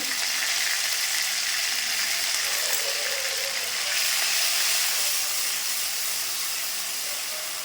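Ginger and green chili paste hitting hot spiced oil in a pan, a loud steady hissing sizzle that holds unbroken and close for several seconds.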